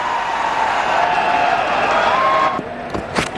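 A crowd at a 2009 India versus Australia one-day cricket match cheers and applauds a boundary four, a broad steady roar with some clapping that dips near the end.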